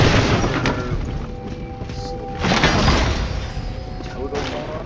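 A bomb goes off in the Enshrouded survival game with a heavy boom and a rumbling crash. It rises out of constant ambient game noise and is followed by a lighter thump.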